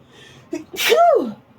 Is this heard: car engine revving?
no